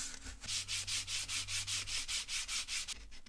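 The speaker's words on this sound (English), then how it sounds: "using these automotive cleaning wipes on this plastic" Automotive cleaning wipes scrub the plastic shell of a pet-hair-filled PS4 Pro, making about a dozen steady, evenly spaced rubbing strokes close up, with no talking.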